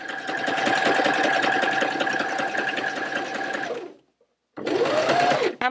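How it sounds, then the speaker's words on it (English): Sewing machine stitching appliqué around a fabric motif, a loud close whirring drone with a steady rapid needle rhythm that stops abruptly, then starts again after a short pause. "It's relatively slow to go through the sewing machine because the machine has to stitch lots and lots of stitches."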